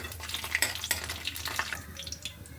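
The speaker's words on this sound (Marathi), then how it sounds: "हे वाटलेलं वाटण आता हे सगळं कच्चं असल्यामुळं दहा वीस मिनटं आपण तेलामध्ये परतत राहूया" Ground masala paste of coconut, ginger, garlic and raw onion being stirred in hot oil with curry leaves: soft scraping strokes and light clinks of a spoon against the pan over a low sizzling hum, no voices.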